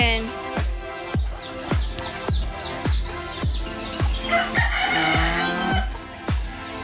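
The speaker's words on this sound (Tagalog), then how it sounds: "She is feeding the chicken." Chickens calling out while being fed, with a steady run of loud, close, repeated clucking and crowing-like cries at a quick, regular pace, plus a brief burst of chatter from the flock near the middle.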